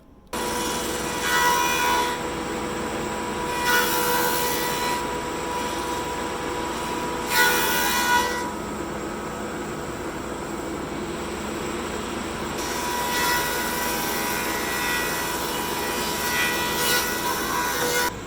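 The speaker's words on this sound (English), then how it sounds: "So first thing I need to do is surface it. I'll do that on the planer." A thickness planer surfaces a rough incense cedar board with a loud, continuous mechanical roar and whine, rising in repeated bursts of heavier cutting noise as the board feeds through, with no talking.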